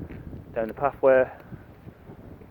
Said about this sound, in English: The wind's starting now